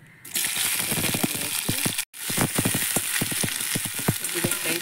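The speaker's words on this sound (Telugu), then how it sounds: "కొద్దిగా ఫ్రై చేసుకుంటూ" Fish fries in hot oil in a kadai with a loud, continuous crackling sizzle, dense sputtering pops close up, briefly cut to silence midway, with no talk.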